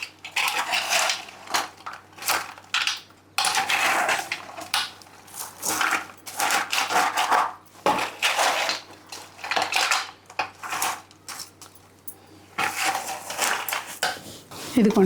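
Jaggery syrup, still hot, being stirred into a mixture in a metal vessel for a Sankranti sweet, heard as repeated scraping and clattering of a spoon against the pot in uneven bursts, close and fairly loud.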